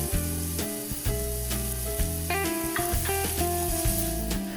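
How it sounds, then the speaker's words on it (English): Burger patty patted dry and searing on a hot griddle, a steady close sizzle running throughout with music playing over it. "I patted it dry and I seared it on the griddle as well"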